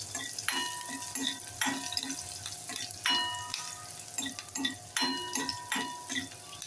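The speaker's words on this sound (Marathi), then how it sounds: "लसूण आलं आणि हिरवी मिरची बारीक कापून घ्यायची तीन चार पाकळ्या लसूण एक हिरवी मिरची थोडंसं आलं परतून घेऊया" Garlic, ginger and green chilli sauté in a pan for a moong dal pithla, a soft sizzle punctuated by repeated clinks and scrapes of a spoon stirring, quiet and close.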